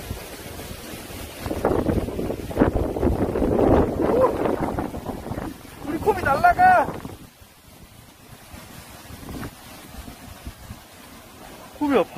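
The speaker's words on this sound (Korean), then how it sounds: "바람이 장난 아니다" Strong typhoon wind blasting loudly across the microphone in gusts, with a person talking over it and a brief higher-pitched voice or animal sound partway through.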